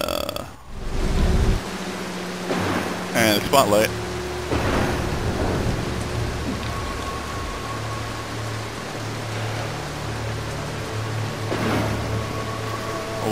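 Rain and rolling thunder in the Mark of the Ninja stealth game, a steady wash of rainfall with low rumbles and a sharp crack near the start, under intermittent talk and brief game effects.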